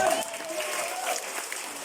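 A church congregation claps together in a steady, dense wash of applause, with a voice briefly audible over it at the start.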